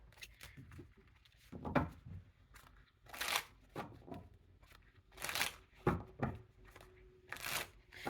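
A deck of tarot cards is shuffled in repeated crisp riffling bursts, about six or seven close, dry rustles separated by short pauses, with no talking over them.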